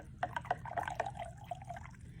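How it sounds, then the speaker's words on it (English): Sugar-candy sticks for rock candy are dipped into water, making faint, repeated little splashes and drips over a quiet background. "we're just gonna dip these down in the water and get them wet"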